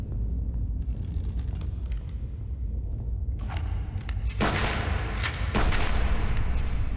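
Gunfire from a hunter in the survival game Subsistence: a few sharp broadband shots near the middle and end, crackling over a steady low rumble of game ambience.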